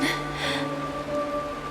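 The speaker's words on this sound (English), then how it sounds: "This is the sound of rain." Rain falls steadily in a Honkai: Star Rail game scene, a soft continuous hiss with sustained musical tones layered beneath and a brief breathy sound at the start.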